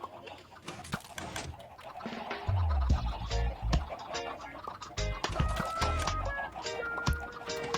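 Game chickens cluck and squawk in short bursts inside a Minecraft chicken farm, with scattered scratches and a radio's low music underneath throughout.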